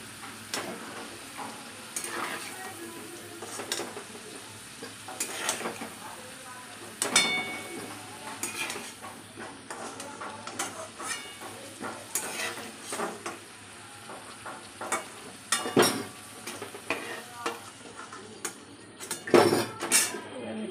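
Continuous sizzle of potatoes frying with repeated scraping and clinking of a spatula stirring in a pan, occasional voice in the background.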